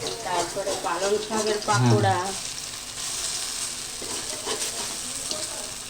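Raw banana fritters fry in hot mustard oil in a kadai, giving off a steady close sizzling hiss; a person talks briefly over it at the start before the frying continues alone.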